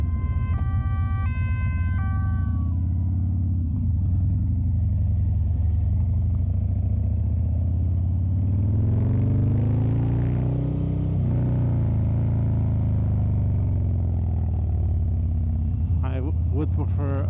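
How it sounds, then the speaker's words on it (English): Harley-Davidson Fat Bob 2019 motorcycle with an aftermarket exhaust, its loud engine rumbling steadily and revving up mid-clip, with a siren-like tone briefly audible at the start. "It's loud, but yeah, I want my Harleys to be loud."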